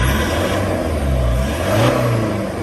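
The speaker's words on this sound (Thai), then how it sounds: "เดี๋ยวมาฟังเสียงเครื่องหลังทำนะครับ" Toyota Hiace 3.0 diesel engine, JDM spec with DPF and EGR disabled, revving steadily close by with a low rumbling drone and a slight rise in pitch, no talking.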